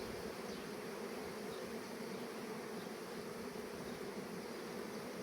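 Honeybees buzz steadily around brood frames lifted from an open hive, a dense continuous drone close by with no voices.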